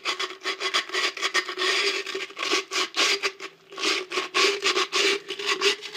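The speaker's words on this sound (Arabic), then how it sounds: "هنجيب صنفرة ونسنفرها" Sandpaper is rubbed by hand over a piece being made into a vase, producing rapid, repeated rasping strokes, close and fairly loud with short pauses, no voices.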